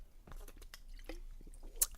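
Gulping a drink of Diet Mountain Dew, a run of soft wet swallowing and mouth sounds at close range, ending in a brief sharp click or smack, with no talking.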